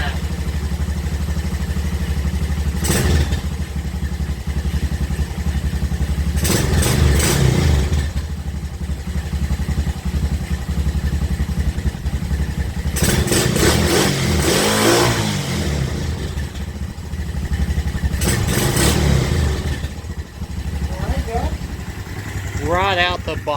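A wrecked ATV's small engine idles with a steady rumble, punctuated by several sharp revs that rise and fall, while people talk intermittently nearby.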